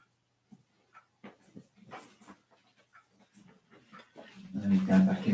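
A small puppy named Monty whimpers and pants impatiently indoors, wanting to be let out for a wee; soft intermittent whines build to louder, closer yelps at the end, with people talking nearby.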